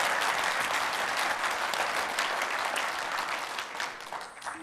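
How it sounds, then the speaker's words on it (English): Steady applause from the audience at a mayoral town hall in Wausau, a dense wash of clapping that holds strong for several seconds and then thins slightly toward the end, with no talking over it. "let's give them a round of applause"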